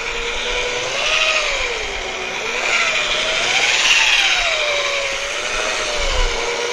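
A rotary buffer with a wool pad polishes fresh car paint at about half throttle, a loud continuous motor whine whose pitch gently rises and falls as the pad moves, close up with no talking.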